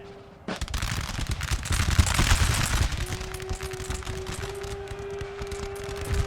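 Massed musket volleys from infantry in the Napoleon: Total War strategy game, a dense crackling fusillade of overlapping shots with booming low rumble, continuous and fairly loud, with a steady game tone underneath.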